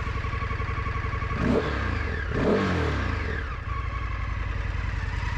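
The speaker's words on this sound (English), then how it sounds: "Give it a little rev." Indian FTR 1200 R Carbon motorcycle with its rear cylinder shut off at idle, blipped twice in quick succession, the engine rising and falling close by before settling back to a steady rumble, no voices.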